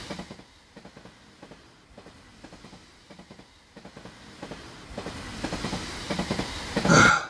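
A train rolls along the tracks with rhythmic clickety-clack from the wheels, building in loudness, ending in a bright metallic screech.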